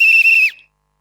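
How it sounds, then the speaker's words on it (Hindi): A single sharp, shrill whistle blast, loud and close, held steady for about half a second before sliding down and cutting off into silence. "सीटी"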